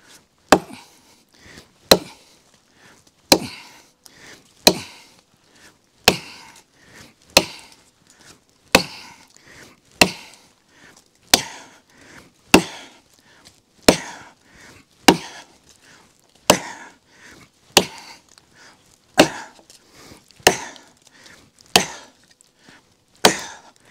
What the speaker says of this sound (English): Let's start, get our initial chop in.